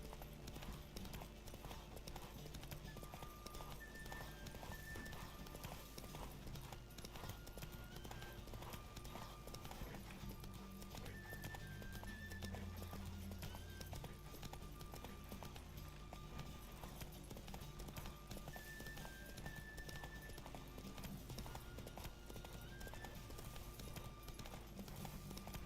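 Roach, a horse in The Witcher 3, gallops in a race, with steady rapid hoofbeats and occasional whinnies over a continuous game music bed, running unbroken throughout.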